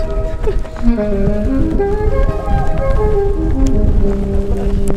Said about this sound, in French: Oh la tempête.